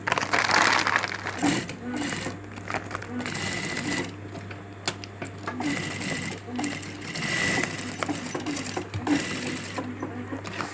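A sewing machine stitches along a marked line on a feed-sack bag, its motor humming steadily in runs with short pauses and mechanical clatter, while someone talks over it.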